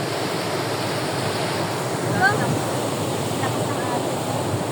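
Strong sea waves crash onto the shore at Tap Mun, Hong Kong, making a loud, continuous roar of surf mixed with wind buffeting the microphone.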